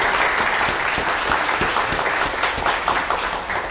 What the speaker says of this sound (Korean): 함께 박수 치실까요?